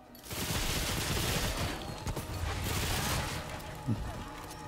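A submachine gun fires in sustained rapid automatic bursts in Remnant 2, loud and dense, with a brief thump near the end and no speech over it.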